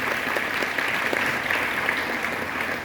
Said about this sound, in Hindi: उनका भी जोरदार तालियों से आप लोग स्वागत करें